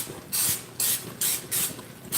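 Pam cooking spray misted onto a silicone mold, four short close hissing bursts separated by brief pauses.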